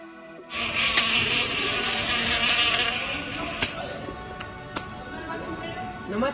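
Bees make a steady buzzing drone, close and fairly loud, with a few sharp clicks toward the end.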